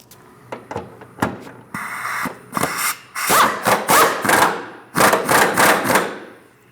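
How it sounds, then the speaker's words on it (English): A bolt being tightened on the fuel tank of a 2016-2025 Chevrolet Malibu 1.5L with a power tool, heard as a series of close, sharp whirring bursts separated by short pauses, growing denser toward the end. "Snug the bolt down."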